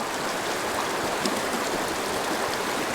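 A river stream flowing on a tenkara fly fishing outing, a close, steady rushing wash of water that stays constant and full with no voices.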